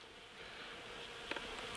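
Honeybees buzz around an open hive, a faint, steady drone of many insects with a couple of brief closer passes, no voices.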